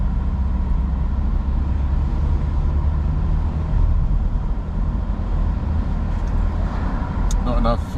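Steady car engine and road rumble on an Oxford city street with cycle lanes, a continuous close drone throughout with faint higher clicks near the end; a voice speaks over it.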